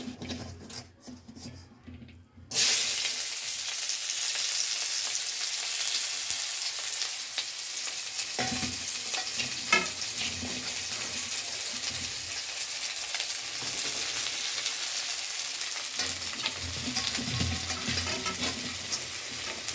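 Chopped onion, garlic and green chili frying in a cumin tempering, a sudden loud sizzle bursting in after a quiet start and hissing steadily, with scraping stirs against the pan throughout.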